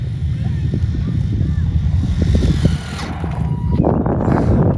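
An electric RC car with a brushed motor on a 2S LiPo runs at full throttle, giving a steady, close buzzing whir with rough low rumble that swells again near the end.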